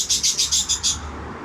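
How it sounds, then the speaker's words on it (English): Birds chirp in a quick run of about six bright, evenly spaced calls, fairly close, then fade out, with a low steady hum beneath and no talking. "birds, please shut the fuck up"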